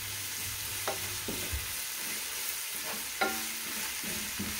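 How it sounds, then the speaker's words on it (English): Close-up stirring of a spiced vegetable pulao with chopped green chilies, seeds and fennel seeds in a frying pan: a constant oily sizzle broken by several light scraping and clinking spoon strokes, with no talk. "And our chopped green chilies with seeds. And we will mix this in really well."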